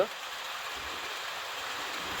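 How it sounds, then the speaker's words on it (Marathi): Rain falling on the stone steps at Marleshwar waterfall makes a constant, even hiss of water, moderately loud and unbroken from start to end, with no voices. "पाऊस पण आलाय मस्त"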